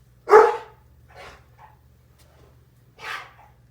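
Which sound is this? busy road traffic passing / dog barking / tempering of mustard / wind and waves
dog barking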